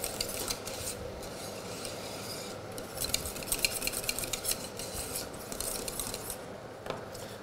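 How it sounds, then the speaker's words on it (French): Cocoa powder being stirred into glucose in a bowl while making a chocolate glaze, a steady close scraping and rubbing of utensil against the bowl that grows busier and more rhythmic midway, with no voices. "Nous allons verser le cacao poudre dedans et donc le mélanger."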